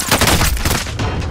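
Rapid burst of video game gunfire, loud and close, a quick run of sharp shots over about a second and a half.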